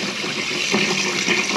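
A running dishwasher makes a steady, close rush of swishing, splashing water that continues unbroken and fairly loud throughout, with no voices.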